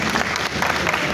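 Audience applause at an engineering community event, dense steady clapping from a large crowd throughout, fairly loud and close.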